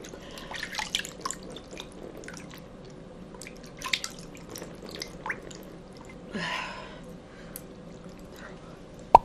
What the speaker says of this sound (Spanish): así que ahora voy a lavar mi rostro.